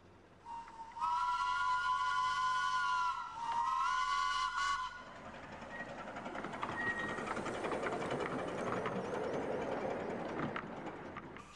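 Minimum gauge steam locomotive, the most powerful of its kind, gives two loud sustained whistle blasts, then runs on with a broad rumbling chuff and rail noise close by.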